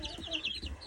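Chickens with chicks and a rooster make a brief flurry of soft, faint clucks and high chirps close by.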